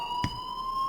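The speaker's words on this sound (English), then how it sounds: "you hear that fire alarm?" A school fire alarm blares in the game Life is Strange, a continuous piercing electronic tone held without a break, with one brief dull thump near the start.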